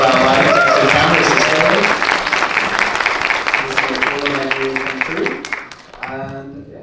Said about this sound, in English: round of applause for our lighting techs and cameras